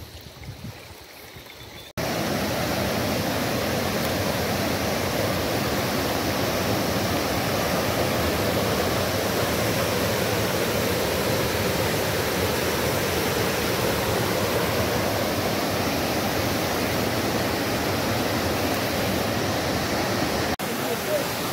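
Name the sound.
mountain stream and waterfall on Sikkim trek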